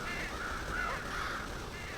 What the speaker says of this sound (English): I'm just gonna try and take out as many crows as possible.